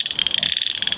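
A tiny rain frog calls from grass or leaf litter in a park, a rapid, high-pitched ticking trill of evenly spaced chirps, close and clear with nothing else audible.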